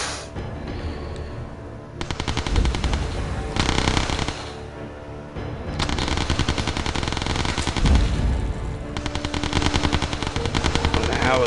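A mounted machine gun in an island battle video game rattles out long sustained bursts, loud and continuous, broken by short pauses between volleys.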